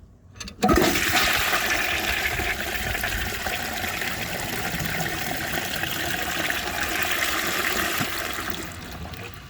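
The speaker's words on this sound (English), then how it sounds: "That was the perfect flush right there." A 1950s Kohler Trent toilet flushes with an empty bowl, starting with a sudden gush and then a loud, steady rush of water that lasts several seconds before easing slightly at the end, with no voices over it.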